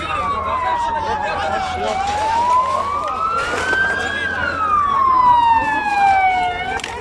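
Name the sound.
fire engine siren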